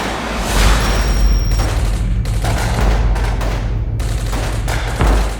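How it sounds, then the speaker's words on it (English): Rifle fire aimed at an approaching kamikaze drone, a loud continuous crackle of rapid gunshots in dense bursts with short gaps, heard from a distance in an open field without talk. "When the Russians realized the sound of the approaching drone, they tried to respond with rifles."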